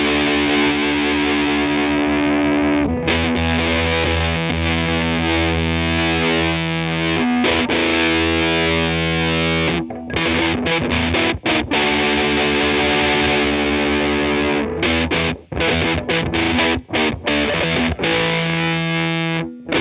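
A distorted electric guitar plays through rare vintage EarthQuaker Devices pedals, loud and continuous with dense chugging chords and a few short choppy stops near the end, no voices.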